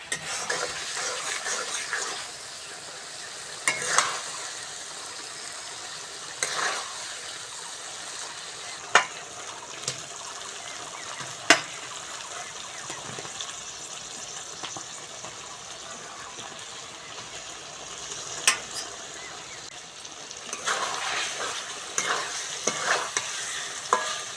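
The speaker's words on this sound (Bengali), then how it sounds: "মশলা থেকে তেলও ছেড়ে দিয়েছে এইবার সিদ্ধ করা আলুটা দিয়ে দেবো" Boiled potatoes fry in oily spice masala for a Bengali village-style egg curry, a steady sizzle broken by repeated stirring scrapes and spoon knocks against the pan, close and alone with no talk.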